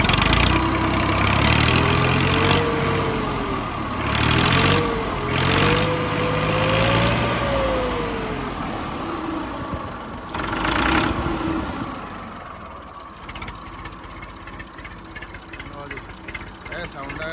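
A 1982 model 240 car engine idles with a steady low rumble, close up, while people talk over it and the sound fades somewhat toward the end.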